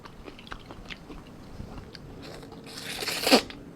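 Someone eating crispy sun-dried fish, with soft scattered crunches and chewing near the mouth that build into a louder, sharp crackly bite toward the end. No talking.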